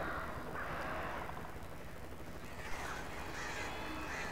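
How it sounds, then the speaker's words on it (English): Crows caw in the video game Alan Wake, a string of harsh, faint calls repeating over a low, steady background rumble. "look at all those birds"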